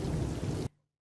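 Steady rain falls in an animated story, a dense broadband hiss lasting about two-thirds of a second before cutting off abruptly into silence.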